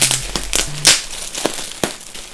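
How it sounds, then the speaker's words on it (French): Plastic packaging crinkles and tears as a Nike hoodie is unwrapped, a few sharp close rustles and rips over a couple of seconds. "je vais essayer de le déballer"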